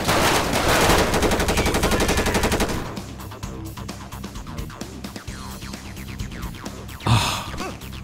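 Rapid automatic gunfire rattles loudly in GTA 5 with the LSPDFR police mod during a FIB SWAT raid, a dense burst for about three seconds followed by scattered shots and game noise.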